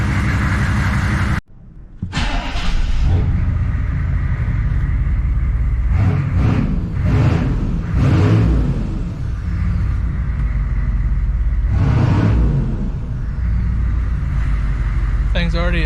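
A truck fitted with a 6.5 Detroit Diesel engine rumbles loudly and steadily while driving, with a brief cutout near the start and swells of revving.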